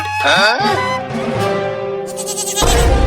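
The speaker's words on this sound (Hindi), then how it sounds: "अरे वाह, बकरी का बच्चा" A goat kid bleats in a cartoon scene, several wavering, voice-like cries close and loud, followed by a burst of noise at the end.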